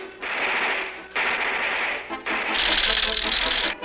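Cartoon gunfire comes in long bursts of rapid rattling shots, three sustained volleys in close succession, with a brief gap between each.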